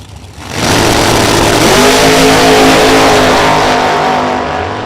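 Blower-equipped and carbureted drag racing dragsters revving at the starting line at Kil-Kare Dragway during an Outlaw series event; after a brief quiet start, a loud, sustained engine roar swells in and holds with a rising, throbbing pitch, with no talking.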